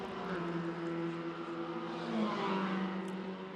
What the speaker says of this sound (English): Andy Chang, Carnabrate, the car you're looking at now, the all-red machine.